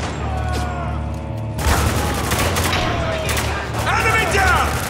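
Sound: gunfire in the video game Spec Ops: The Line

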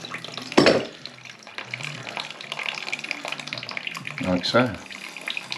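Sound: water running into a toilet pan to test the bung

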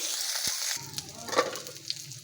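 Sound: bitter gourd frying in a pan

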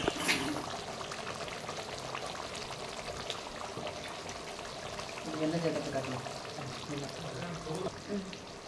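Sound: garlic kuzhambu curry boiling in a pot

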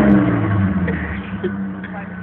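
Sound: car engine revving

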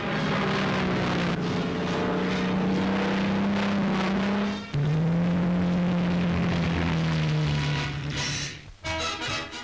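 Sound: Supermarine Spitfire aircraft flying on test flight

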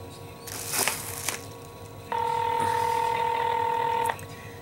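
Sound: telephone call dialing and ringing

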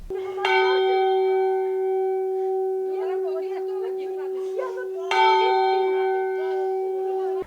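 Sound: church bell ringing

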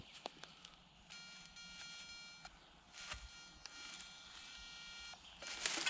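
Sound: metal detector signal beep

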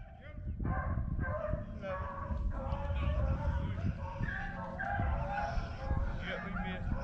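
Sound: beagle dogs barking during a rabbit hunt

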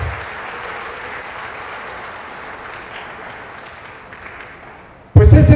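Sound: crowd applause for Adolfo Christlieb Ibarrola

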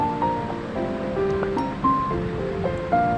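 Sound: carrots and capsicum sizzling and stirred in hot oil

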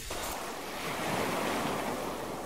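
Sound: ocean waves on the beach

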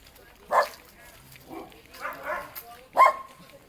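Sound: dogs barking

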